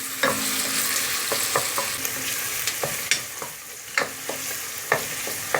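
Onions sautéing in oil in a pan give a steady bright sizzle, broken by repeated sharp scraping clicks as a spoon stirs them, with no voices.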